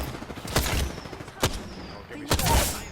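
Gunfire in Apex Legends on Kings Canyon: three sharp bursts of shots at uneven intervals over low game ambience, with a voice talking faintly in the background.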